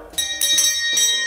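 A bright bell rings three times in quick succession, each ring clear and close with a short shimmering decay.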